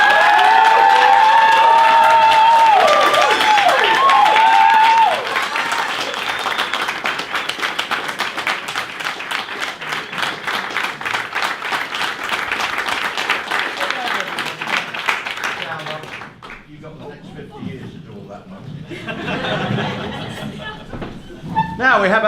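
Wedding guests clap and cheer for a newly married couple at their ceremony, a loud sustained burst of dense applause with whoops that thins into scattered claps and fades toward the end.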